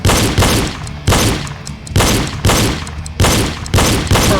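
Pistol shots ring out during a reload drill, nine loud sharp reports in pairs and short strings, each separated by brief pauses while the shooter reloads, close and echoing.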